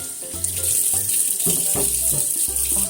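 Eggplant and cucumber rinsed under a running tap, a continuous close rush of water with soft knocks and shifts as the vegetables are turned in the stream.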